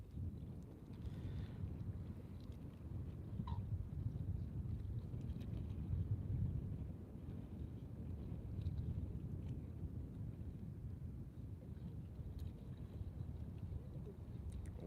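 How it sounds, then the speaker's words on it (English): Wind buffets the microphone aboard a boat on an overcast, cool day out at sea, a constant low rumbling roar that swells and eases slightly without any talking. "It's windy, as you can probably hear on the microphone."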